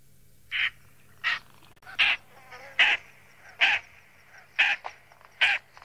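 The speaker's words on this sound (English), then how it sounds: "Let's play its call and see whether I will be able to mimic, because it has a different call." A recorded bird call played through a speaker outdoors on safari, seven short, harsh, cawing notes repeated at a steady pace of roughly one every 0.7 seconds over a faint background hum.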